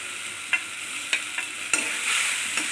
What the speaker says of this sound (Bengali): আমের যে পেস্টটা করেছিলাম সেইটা দিয়ে আবার ভালো করে নাড়তে থাকলাম।